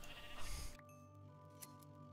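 Sheep bleating in the Minecraft Tekkit Lite game, one short bleat at the start, then steady synthetic tones and faint clicks with no talk.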